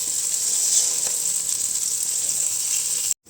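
Seven eggs poured into a hot pan for a green pepper and egg stir-fry hiss in a steady, bright, close sizzle that runs without a break, then cuts off abruptly at the end.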